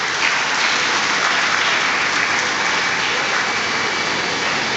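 Dense, continuous applause from a graduation ceremony audience at a medical sciences institute fills the whole stretch at an even, loud level, with no talk over it.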